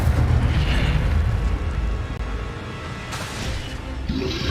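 An Incendio fire spell cast in Hogwarts Legacy on Xbox Series X, giving a sustained loud fiery roar and whoosh with a burst near the end.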